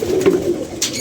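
Pigeons coo in a steady, low, rolling murmur close by, with a brief higher rustle near the end and no voices.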